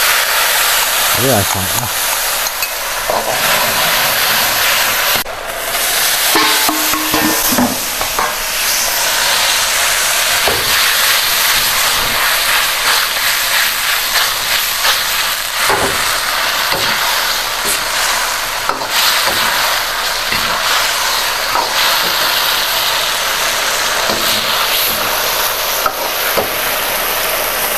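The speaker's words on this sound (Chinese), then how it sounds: "把这些下锅啊，直接先过一下油" Ingredients for a pork kidney stir-fry hit hot oil in a wok with minced ginger, giving a steady sizzle with scraping stirs throughout while someone talks over it.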